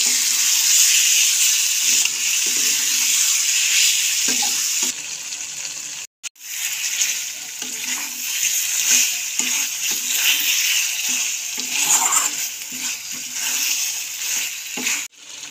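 Chicken for ghugni fries in a pan with salt, turmeric and tomato sauce, giving a steady bright hiss and sizzle. A brief pause comes partway through, then the sizzling returns with occasional stirring scrapes.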